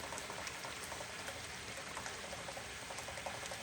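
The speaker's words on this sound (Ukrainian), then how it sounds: "Наливаю 200 мл олії." Cooking oil, 200 ml, is poured from a measuring ladle into a kitchen pot, giving a steady close liquid hiss and patter that runs alone without pause.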